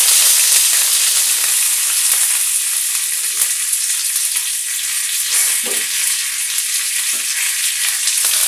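Black mustard seeds and curry leaves sizzle and crackle in hot oil, a loud, steady frying hiss with small pops scattered throughout and no voices.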